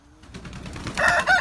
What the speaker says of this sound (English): Letting the chickens out.